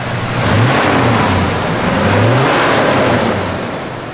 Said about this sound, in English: Just good running small block Chevy